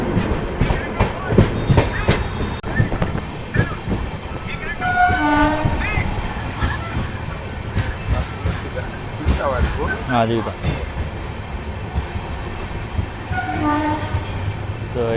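The Palnadu SF Express, an LHB rake, rolls into Sattenapalli station with loud rumbling and clattering wheels and several horn blasts, while someone talks over the train noise.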